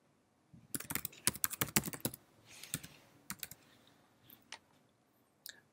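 A name typed on a computer keyboard, a quick burst of close, crisp key clicks followed by a few slower, scattered keystrokes, with no talking.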